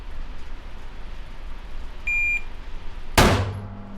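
A shot timer gives a short electronic start beep at a shooting range, then a single loud handgun shot cracks nearby and its echo rings out.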